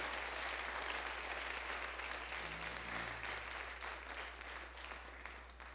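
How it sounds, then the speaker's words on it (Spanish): Steady, dense applause from a large church congregation, loud and sustained for several seconds with no voices over it. "denle un fuerte aplauso al Señor"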